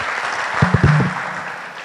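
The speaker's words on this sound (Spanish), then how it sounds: "Muy bien, un aplauso para" Audience applause for a speaker at a logistics and intermodal transport panel, a short burst of clapping that rises and then tapers off over steady room noise.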